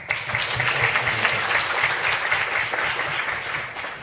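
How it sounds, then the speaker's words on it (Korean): A room full of people claps continuously, the steady crackle of applause holding at a constant level from start to finish. "박수 한번 주십시오"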